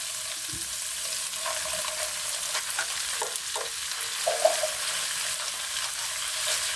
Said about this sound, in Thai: หมูบด ใส่ลงไปผัดครับ